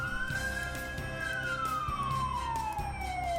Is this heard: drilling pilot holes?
no